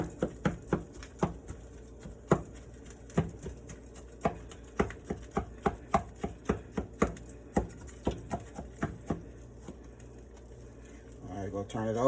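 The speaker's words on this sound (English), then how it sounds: "I season it real good, and once I season it, I go ahead and poke it with a knife so that seasoning can get all up in that meat." A knife repeatedly jabs into a seasoned pot roast, producing a long series of dull, fairly even knocks, roughly two per second, close and distinct against a quiet background.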